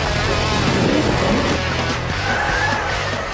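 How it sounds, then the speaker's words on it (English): A 2000 Ford V8 Supercar at speed on a hot lap of Mount Panorama, Bathurst, produces a loud, close, continuous engine roar with tire noise over a few seconds. "the track with Mark Larkham and John Bowe, doing a hot lap of Bathurst, showing the viewers what's ahead."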